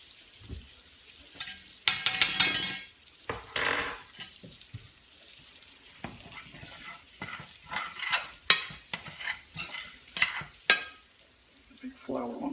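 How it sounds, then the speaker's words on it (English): Flour is stirred into browned meat and oil in a pan, a gravy roux for biscuits and gravy, giving repeated scraping and stirring strokes with utensil clinks over a light sizzle, near and fairly loud in bursts. "We'll kind of stir that around, see how that looks."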